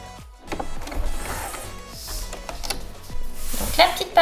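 A sewing machine topstitches decorative seams on a fabric bulk bag, a small motor whirring in short, uneven bursts with mechanical clatter at close range.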